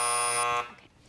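A harsh electronic quiz-show buzzer sounds for a wrong answer on a children's quiz program, one loud sustained tone lasting about half a second before cutting off into quiet.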